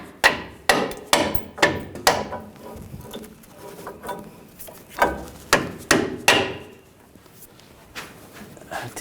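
A hammer tapping a sway bar into place on a 2014-2018 GMC Sierra 1500 front suspension, a rapid series of sharp metallic knocks, then a pause and another burst of taps, close and clear.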